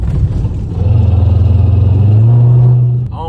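Loud car engine revving up into a sustained drone that climbs in pitch, with a noisy drive shaft adding rough vibration, cutting off abruptly at the end.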